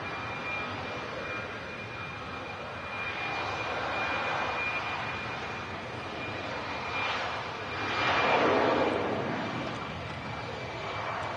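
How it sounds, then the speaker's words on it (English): An EasyJet airliner departs Manchester Airport bound for Hurghada, its jet engine roar building to a loud swell before easing, heard from a distance over steady airport background with faint talk. "EasyJet City over on runway 2 today."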